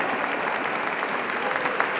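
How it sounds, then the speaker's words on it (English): Audience applause at a Lunar New Year event for Gordon J. Lau Elementary School performers: a steady, dense wash of clapping throughout, moderately distant. "Big round of applause to our Gordon J."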